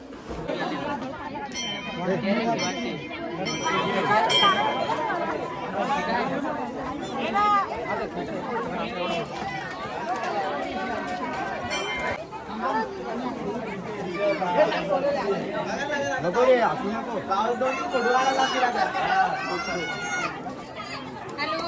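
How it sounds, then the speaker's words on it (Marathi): Dense crowd chatter at the Khandoba temple during a turmeric festival, many voices overlapping in a steady close hubbub with occasional louder calls. "हा तर हे बघा गर्दी केवढी आहे बघा"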